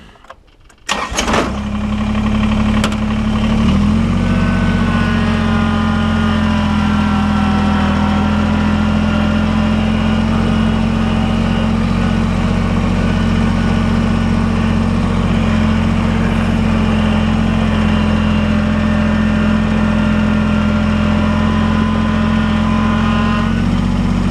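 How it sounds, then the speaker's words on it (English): Tractor engine fired up on a ranch, catching after a brief crank and then settling into a loud, steady, close-up idle with a deep droning rumble that holds throughout. "Fire up the tractor again."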